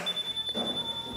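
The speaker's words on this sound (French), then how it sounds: "il vous dit bien que la fonction n'a pas pu être activée avec le bip d'anomalie" Error beep from a 2017–2019 Yamaha TMAX scooter when a function fails to activate, a steady high electronic tone sounding continuously and clearly, with no talking.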